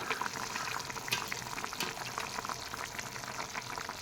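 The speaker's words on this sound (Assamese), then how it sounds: "দেখিছেনে এয়া মটৰ আৰু বিলাহীখিনি উতলিব ধৰিছে" Peas and tomatoes bubbling in a simmering fish curry, a constant close hiss of boiling and sizzling with small pops, steady and even throughout.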